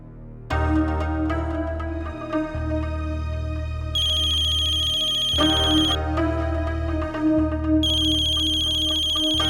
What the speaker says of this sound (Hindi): बार बार किसका फोन आ रहा है?